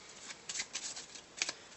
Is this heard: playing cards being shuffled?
yes